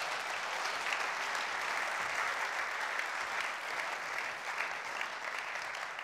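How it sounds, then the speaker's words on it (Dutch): Congress audience applauding at a small-business autumn conference, a steady, even wash of many hands clapping for the full length, moderately distant and without talk. "Ja, applaus nog."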